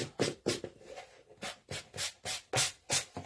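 A sanding block rubs back and forth on painted wood in rhythmic, raspy strokes, about ten in quick succession, close and clear.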